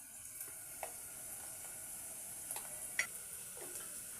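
Turmeric goes into onions frying in hot oil for an egg pulusu curry, a soft steady sizzle running throughout with a few faint ticks and stirring clinks, fairly quiet and without talk.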